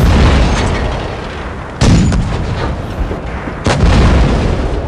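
Tank cannon fire in World of Tanks Blitz during a competitive esports match, with two heavy booming shots that each decay into a long rumble amid steady loud battle noise.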